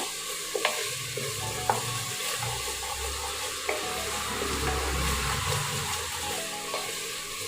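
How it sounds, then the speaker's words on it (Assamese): Spices for meat korma sizzle and crackle in a hot pan, with a utensil scraping and stirring through it, occasional sharp clicks, and no one speaking. "মই এইখিনি আকৌ ভালদৰে অকণমান এনেকৈ ভাজি ল'ম।"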